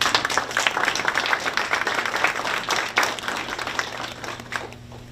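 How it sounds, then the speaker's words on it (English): An audience at a community meeting claps steadily, a dense, moderately distant round of applause that tapers off toward the end, with no talking over it. "Please give them a round of applause."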